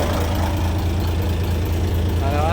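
A fishing boat's engine idles with a steady low chugging throb, close by, and a faint rising whine near the end.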